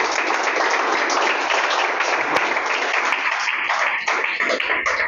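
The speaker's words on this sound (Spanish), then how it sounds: "Pues dale un aplauso a Dios." A church congregation bursts into loud, dense applause, many hands clapping together in a steady roar for about five seconds before it thins out slightly at the end.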